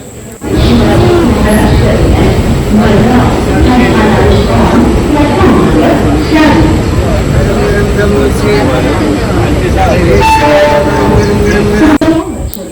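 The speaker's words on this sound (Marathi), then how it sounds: "इथे आपल्याला दिसते पनवेल स्टेशनला पोहोचलेली आहे ट्रेन प्लॅटफॉर्मला लागते ट्रेन" The Janshatabdi Express pulls into Panvel station platform: a loud, continuous rumble of rolling carriages and rail noise with a busy platform crowd chattering underneath, fading at the end.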